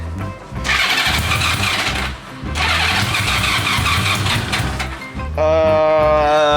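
Vintage motorcycle engine cranking and sputtering as it tries to catch, loud rough bursts in two long runs with a brief drop between, then a steadier higher-pitched idle near the end.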